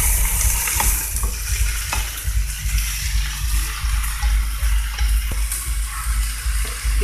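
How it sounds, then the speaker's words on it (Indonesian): Vegetables stir-fried with oyster sauce in a pan give a continuous sizzle with scraping stir strokes and occasional clinks, steady and close throughout. "Kita aduk-aduk biar bumbu tercampur rata."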